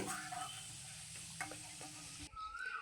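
Bread pieces fry in a pan for bread halwa, a steady close sizzle with occasional stirring scrapes and taps, faint overall, the hiss thinning briefly near the end.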